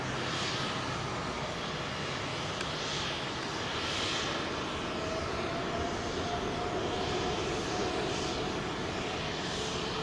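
An airliner departs London Heathrow's runway 27L with a steady, broad jet roar that holds at an even level for the full stretch, heard from a distance with no voices.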